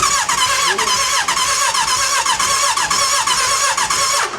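A Hayabusa motorcycle engine swapped into a K11 Micra cranks over in a fast, rhythmic whirring churn, loud and close, pulsing steadily throughout without catching into a clean idle.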